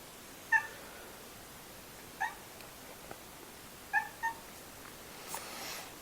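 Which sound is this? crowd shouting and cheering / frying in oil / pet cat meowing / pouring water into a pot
pet cat meowing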